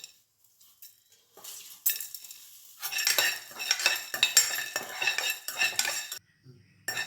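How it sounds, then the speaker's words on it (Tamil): Cumin and black pepper dry roasting for a Tamil mixed vegetable sabji are stirred in a pan with a metal spoon, a run of close scraping, clinking strokes and light rattling of the spices, with no talking. "ஜீரகம், மிளகு, இது ரெண்டையும் ஒன்றா வறுத்துடலாம்."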